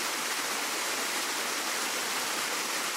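A waterfall pours over moss-covered rocks on a river walk in Kapiti, New Zealand, producing a steady, dense, hissing rush of water that stays constant and loud throughout, with no voices.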